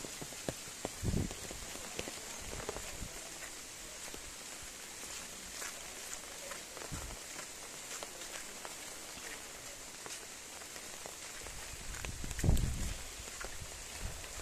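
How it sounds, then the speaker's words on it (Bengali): Heavy rain pours steadily on rural village paths and a canal in Bangladesh during a storm, a dense even hiss with scattered louder drips and a few soft thuds, no voices. "কালকে ভোর রাত থেকে প্রচুর বৃষ্টি হচ্ছে"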